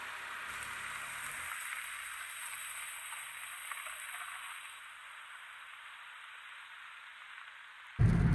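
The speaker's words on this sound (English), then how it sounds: "It has started to rain badly." Steady, moderately loud rain hisses down through autumn woods in a continuous wash, with no voices, before a sudden thump at the very end.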